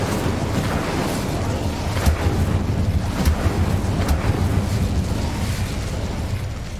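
Incendio fire spell cast in the Hogwarts Legacy video game, a roaring whoosh of flame with several sharp pops and bursts over a dense, steady rumble.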